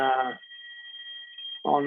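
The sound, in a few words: fire alarm ringing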